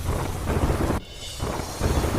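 Heavy monsoon downpour in Deesa, Banaskantha, Gujarat, a dense, steady roar of rain close by that briefly thins near the middle before surging back at full strength.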